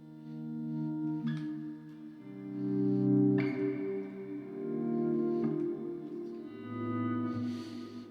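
Sustained guitar chords washed in heavy ambient reverb from an Astronomer pedal, each new strum blooming over long, overlapping tails that never fully decay; no talking.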